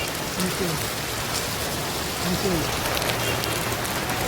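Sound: heavy rain falling

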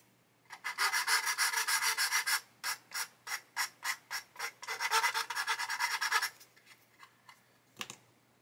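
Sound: sanding stick rubbing plastic model part

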